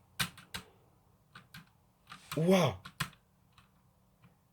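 Key clicks from an HP GK400 mechanical keyboard with brown-style switches, typed in a few separate close bursts with pauses between them, while a voice exclaims over the clicks partway through.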